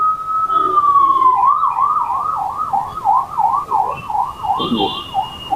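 An ambulance siren sounds close by on a Hyderabad street, a long tone shifting into a rapid rising-and-falling wail that repeats steadily.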